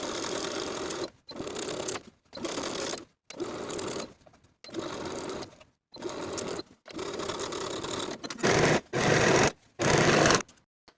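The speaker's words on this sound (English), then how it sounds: "Sew the ruffle to the bottom of the sleeve with a 1/2 inch seam allowance" A home sewing machine stitches a ruffle onto the bottom of a sleeve, running in about eight short bursts of rapid mechanical whirring separated by brief pauses.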